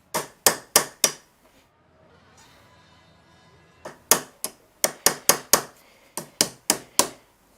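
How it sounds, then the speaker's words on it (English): Sharp, loud hammer blows ring out alone in two bursts, a quick run of three strikes, a pause with faint rustling, then a longer series of about a dozen evenly spaced hits. "you might hear me hammering a little bit"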